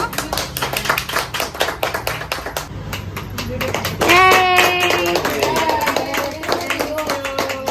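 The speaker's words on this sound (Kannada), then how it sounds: "ಚಪ್ಪಾಳೆ ಹೊಡಿರು" Many hands clap at a family birthday celebration, a dense rhythmic patter of claps near and loud, with voices singing and talking over it partway through.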